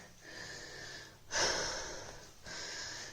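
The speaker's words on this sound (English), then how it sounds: "I've had to stand here in the bathroom for a minute because I'm so out of breath" Heavy, laboured breathing from someone out of breath in a bathroom after a shower while ill with COVID, a few long close breaths with a sharper, louder intake in the middle.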